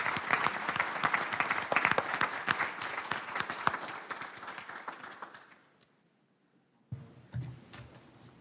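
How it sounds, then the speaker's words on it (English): A school-event audience gives teachers another round of applause: dense, loud clapping that fades to near silence, followed by a brief burst of movement sounds. "let's give them another round of applause"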